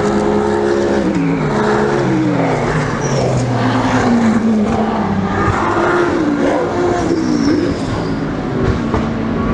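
Ferrari race cars passing at a GT World race in Barcelona: loud, high engine notes rise and fall as the cars sweep by at close range, over constant circuit noise.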